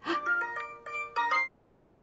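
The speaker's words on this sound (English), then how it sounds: "and that's my ringtone" A Little Mermaid melody plays as a phone ringtone, a bright sequence of clear electronic tones lasting about a second and a half before stopping into near silence.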